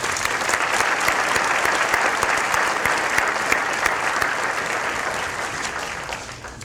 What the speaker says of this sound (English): So let's give them one more round of applause.